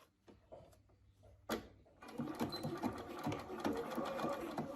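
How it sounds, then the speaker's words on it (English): A sewing machine stitches the curved fly piece of board shorts, starting after a couple of handling clicks and then running in a steady, close, rapid mechanical chatter. "And that's where you're going to want to stitch it. So set it in your machine."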